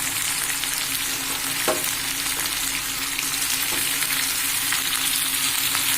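Four or five green chillies fry in oil in a pan, giving a steady, close sizzle with a couple of faint stirring scrapes and no talking.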